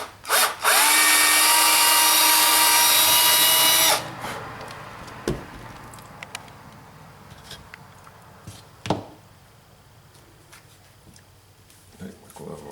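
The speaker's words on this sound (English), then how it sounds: "So now we're going to drill this one." A power drill whirs loudly and steadily for about three seconds, drilling a hole in a wooden arm, followed by quieter handling knocks and taps.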